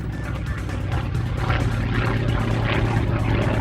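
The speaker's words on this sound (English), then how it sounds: "One Russian aircraft that was at Farnborough was Angie Soper in a Yak 11" A Yak 11 propeller aircraft flies at Farnborough Airshow with a steady, loud engine drone and a low rumbling hum that holds throughout, with faint voices in the background.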